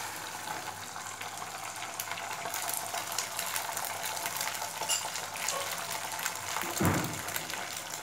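Beaten eggs seasoned with salt hit a hot pan and fry with a steady, even sizzle that runs the whole time, with a brief louder stir near the end.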